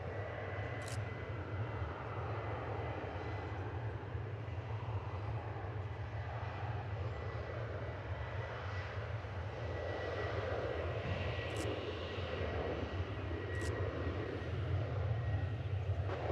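A jet airliner roars steadily during takeoff at Reagan National Airport, a sustained loud engine rumble with a low droning hum that builds slightly toward the end.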